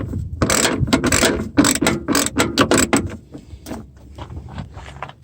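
Ratcheting clicks from a headlight adjuster being turned on a 2006 Nissan Altima, a close run of sharp mechanical clicks in quick, uneven bursts that thin out toward the end.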